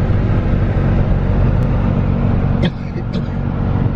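A car drives around Ibadan, Nigeria, with a steady low rumble of engine and road noise, a faint passing whoosh and a light knock, and indistinct speech mixed in.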